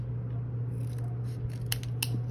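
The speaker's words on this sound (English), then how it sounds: "And then I'm gonna cut it into small widths because I find it too thick." Scissors snip through strips of paper for handmade Christmas gift tags, a few crisp cuts near the end over a steady low background hum.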